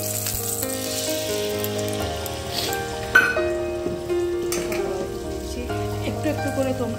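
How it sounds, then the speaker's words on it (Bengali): Food fries in oil in a pan at home while a breakfast for children is made, giving a steady, close crackling sizzle that runs without a break, with faint clinks now and then. "আবার এইভাবে সবগুলো ভেজে নেব"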